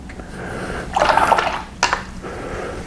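A watercolor brush is swished through a water pot during a lighthouse painting, giving two short splashy sloshes, the first longer and fuller, the second a brief swirl, close and moderately loud.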